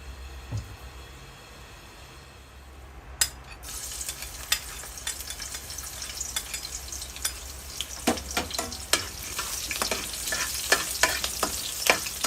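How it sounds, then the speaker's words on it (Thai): Lean pork stir-fried in oil in a pan for a homestyle Thai eggplant dish, a steady close sizzle with repeated scraping and clacking of the utensil against the pan, growing busier toward the end. "ใส่น้ำมันไปเจ้า หมูนี่เป็นหมูเนื้อแดงเนาะ"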